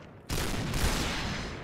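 Loud sustained burst of automatic gunfire in the online shooter Point Blank, starting abruptly after a brief quiet moment and continuing as dense rapid shots to the end, with no talk over it.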